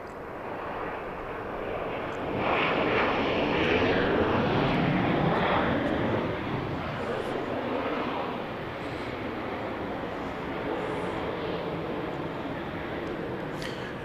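Boeing 737-700 jet airliner at Dallas Love Field, a broad steady roar of engines that swells briefly then holds at a strong, fairly close level.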